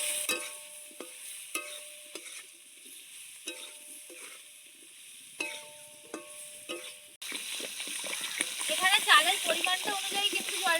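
Ginger sautéing in a pan, with a spoon stirring and scraping in short bursts over a steady background hiss, and a stronger, brighter sizzle building toward the end.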